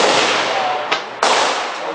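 A CZ-made SKS antique rifle fires at outdoor targets: two sharp reports about a third of a second apart cut through a steady, loud wind-like roar.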